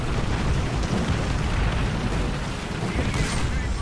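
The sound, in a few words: artillery strike explosion in video game War Thunder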